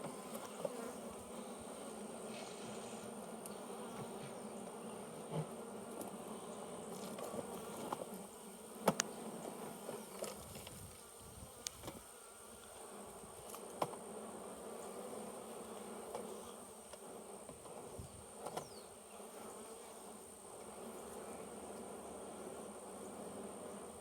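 Honey bees buzz around an opened hive during a honey super inspection, a continuous soft drone with individual bees zipping close past now and then, and a few faint clicks and knocks from handling the frames.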